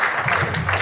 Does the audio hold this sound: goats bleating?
no